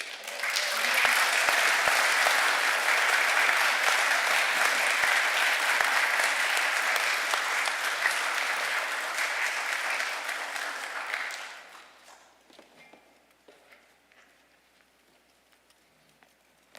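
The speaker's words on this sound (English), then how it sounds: "Another round of applause for our valedictorian." Sustained applause from a graduation ceremony audience, loud and dense for about eleven seconds, then fading quickly into quiet room tone with a few scattered late claps.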